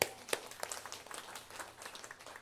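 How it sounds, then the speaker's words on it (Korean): A church congregation at a Sunday worship service claps together, a short, soft burst of scattered applause that starts with a few sharper claps and fades quickly. "잔치 주실 줄 믿고 미리 영광의 박수를 내겠습니다."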